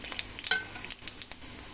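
Whole cumin seeds sizzling in hot oil in a wok: a close, bright crackle and hiss with scattered pops and light spattering, plus a faint clink of a utensil.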